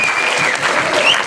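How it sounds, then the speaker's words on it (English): Audience at a documentary screening breaks into loud, dense applause, a thick continuous roar of clapping filling the room for a short burst. "clap it up for the general"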